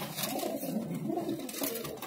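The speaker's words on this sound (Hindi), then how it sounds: "और ये यहाँ लड़ाइयाँ चल रही हैं दो कबूतरों की आपस में" Two pigeons scuffle and coo at close range, soft throaty coos rising and falling over faint wing flutters and patter, quiet overall.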